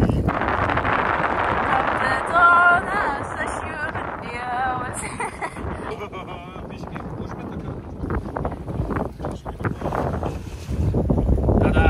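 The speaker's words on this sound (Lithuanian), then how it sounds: "labai pučia vėjas" Strong wind gusting across the microphone during a small-boat ride through the canals of Giethoorn in the Netherlands, a loud, steady roar that lasts the whole time and swells and eases slightly.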